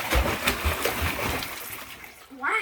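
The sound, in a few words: water splashing with pool toys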